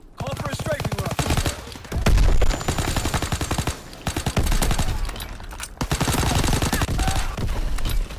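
Rapid bursts of machine-gun fire from a strafing aircraft in a WW2 video game, dense and loud, repeating in volleys across the whole stretch with brief pauses between them.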